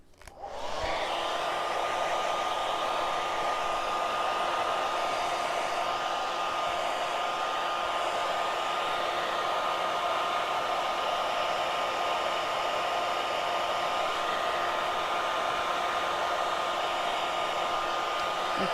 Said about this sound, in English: I blow dry this really quick so I don't stick my finger in it